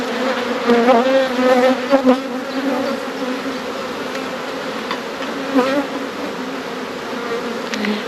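Honeybees buzz loudly and close during a beehive inspection, a dense steady drone with wavering pitch that lasts the whole time, with no speech.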